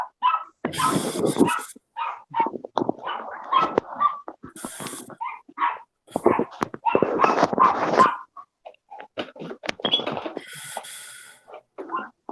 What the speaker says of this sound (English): Yeah, we got a few dogs.